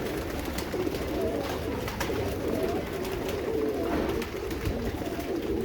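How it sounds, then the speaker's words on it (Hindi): Pigeons cooing softly while pecking at mixed grain of sunflower, corn, sorghum, millet, chickpea and wheat, a steady low murmur of coos and rustling throughout, moderately faint and without talk. "तो कबूतर दोस्तों शौक से खा रहे हैं दाना माशाल्लाह से।"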